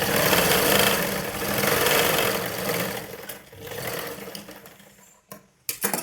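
A sewing machine runs steadily while stitching a blouse, its motor whirring with a dense, rapid needle clatter. The run slows and dips, then ends in a few short stop-start bursts, with no talk.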